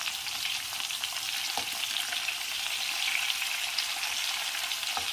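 Turned chicken pieces fry in hot oil with a continuous close sizzle, a dense crackling hiss broken by a few sharp pops and stirring scrapes. No voices.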